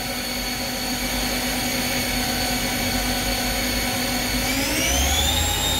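A 1999 Fadal 4020A CNC machining center spindle turning at 3,000 RPM gives a loud, steady whine with sustained tonal hum, its pitch shifting upward near the end.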